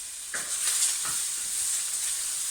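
Food sizzles and crackles steadily in a frying pan at the start of a bolognese sauce, a close, even hiss with no voices.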